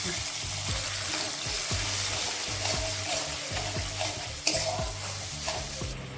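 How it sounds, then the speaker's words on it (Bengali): Whole garam masala with a ginger and cumin paste frying in hot oil, a steady close sizzle with repeated scraping strokes of a spoon stirring through it and no talk. "এবার এই তেলেই দিয়ে দেবো ফোড়নের জন্য গোটা গরম মশলা আর এখানে আছে আদা আর জিরে বাটা"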